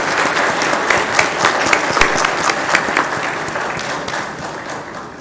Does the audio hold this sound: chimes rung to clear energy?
no